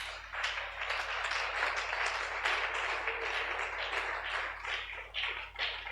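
Congregation at a Tuesday Bible teaching service applauding, a sustained dense wash of clapping that swells and dips over the whole stretch with no voices on top.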